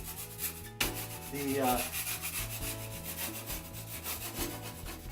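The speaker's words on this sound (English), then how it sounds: "I take a scraper and I scrape out" A metal scraper drags over a drying joint compound base coat on a drywall patch, a steady close rasping rub that rises and falls with each stroke, with a brief knock at the start and a soft hum underneath.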